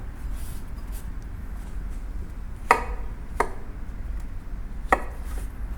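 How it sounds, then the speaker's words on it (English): Three sharp knife cuts through a mushroom on a cutting board, spaced irregularly and close by, over a quiet low hum in a home kitchen. "first step, I'm gonna do cut the mushroom in a quarter"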